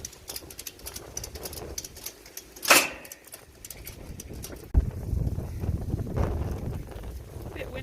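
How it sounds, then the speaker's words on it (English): Gusty wind blows across a microphone outdoors beside a loaded trailer, a steady rumbling buffet with a sharp burst near the middle and a stronger, louder gust rising toward the end. "Windy today, but it's pretty secure."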